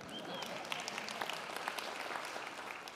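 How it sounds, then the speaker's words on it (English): Audience applause at a speech on global warming, a steady wash of many hands clapping that stays fairly even and moderately loud for the whole stretch. "Give them a round of applause."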